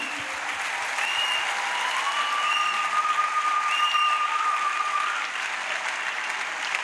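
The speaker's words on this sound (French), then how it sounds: "A clap for Jesus Christ." A large crowd at an evangelistic crusade applauds steadily for several seconds, a continuous wash of clapping with a thin, sustained tone running through it.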